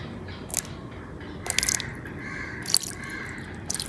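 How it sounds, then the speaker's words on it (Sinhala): A little more water is poured into a spiced murukku batter mixture, heard as a few short, close splashes and drips spaced out over quiet. "ඉතින් අපි තව ටිකක් දාගමු වතුර."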